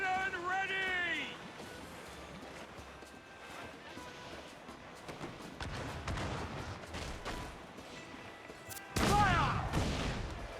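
Naval combat in Assassin's Creed Black Flag: a crew voice shouts early on over a rumbling sea battle, then a heavy ship cannon blast booms loudly near the end.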